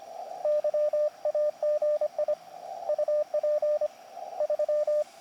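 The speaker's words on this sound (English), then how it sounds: "Look how clear this guy's Morse is, CW." Clear Morse code CW tones received on a KX2 ham radio during a portable QRP contact, steady beeping dots and dashes in rhythmic bursts with brief pauses, loud over faint background hiss.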